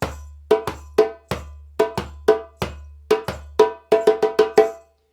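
A djembe struck in alternating deep bass thumps and sharper ringing tone strokes, a steady rhythm that speeds into a quick run of tones before stopping.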